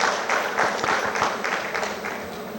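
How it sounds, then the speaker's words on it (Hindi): An audience gives loud applause to welcome performing sisters at a Security Services Wing session, a close, continuous roar of many hands clapping with slight pulsing swells. "तो एक बार पुनः जोरदार तालियों के साथ हम अपनी बहनों का स्वागत"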